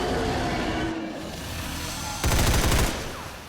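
Rapid-fire gunshots in the tactical strategy game XCOM 2, a loud burst of quick repeated shots lasting about half a second that rises sharply out of steady in-game ambience, then fades.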